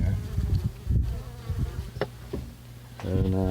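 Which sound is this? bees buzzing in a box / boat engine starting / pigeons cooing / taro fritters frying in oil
bees buzzing in a box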